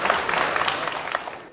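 A live crosstalk comedy audience gives a burst of warm, dense applause that carries on evenly and fades slightly toward the end.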